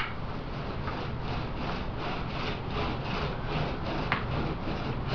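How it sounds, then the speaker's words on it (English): A paint roller (a 7-inch roller cut in half on a 3-inch frame) spreads epoxy across a wing skin, a soft continuous rubbing swish with rhythmic strokes, close and fairly quiet, with no talk. "Simply roll out the epoxy."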